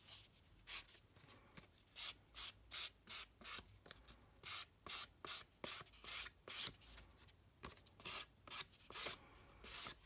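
Edges of a paper card are filed down by hand in quick, even strokes, a rhythmic rasping scrape repeating about twice a second, close and quiet with no talk.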